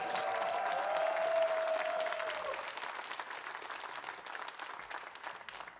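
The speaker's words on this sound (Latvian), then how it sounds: "Vēlreiz skaļi aplausi ovācijas." A live rock concert audience at an outdoor stage in Ogre claps and cheers. Dense applause rises to a peak early on, then slowly thins out. A sustained tone briefly sits over the crowd noise.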